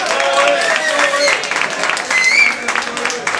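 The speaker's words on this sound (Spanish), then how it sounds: "Aplauso para Noel." Bar crowd applauding a guitar soloist at a guitar solo contest, steady dense clapping over the full stretch with a voice speaking over it and faint tonal sounds.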